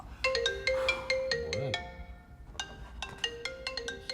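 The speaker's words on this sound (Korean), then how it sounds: "그때 걸려온 영주 씨의 전화." An incoming-call ringtone on a mobile phone plays a bright, melodic electronic tune of repeated chiming notes, loud and close, with a brief pause before the melody loops again, and no talking over it.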